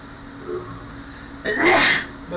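A single loud, close human sneeze in a dark cave during a parkour game, sharp and breathy after a short quiet lead-in, with no talk.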